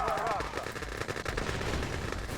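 Machine gun fire in Red Alert 2: Yuri's Revenge with the Rise of the East mod, rapid repeated bursts of shots mixed with other battle noise and game voice lines, loud and continuous.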